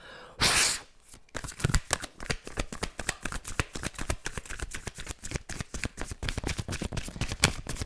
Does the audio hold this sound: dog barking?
no